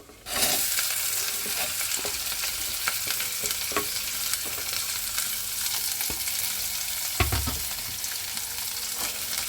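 Onions fry in coconut oil in a pan with a steady, close hiss and crackle, broken by a few soft clicks of stirring and one louder scrape near the end.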